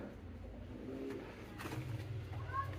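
Peshawari pigeons in a loft give soft low cooing, a faint steady murmur under background noise, with a brief higher chirp near the end.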